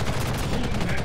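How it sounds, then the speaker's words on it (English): Grenades and launcher rounds blasting in a video game, a dense burst of overlapping explosions and gunfire-like pops over about a second, loud and continuous. "There's arm launchers and grenades going off all around me."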